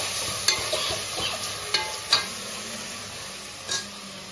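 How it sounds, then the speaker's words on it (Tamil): Tomatoes sauté in a pan for paneer biryani, giving a steady close sizzle with a few sharp scrapes and clicks from stirring. "தக்காளி போட்டாச்சு. தக்காளி இப்போ வதங்கட்டும்."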